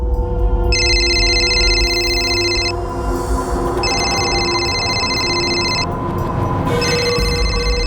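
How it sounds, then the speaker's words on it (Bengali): Telephone rings with an electronic tone in three long bursts separated by pauses, loud and close over a low background hum, left unanswered. "রিং হয়ে যাচ্ছে কিন্তু কেউ ধরছে না"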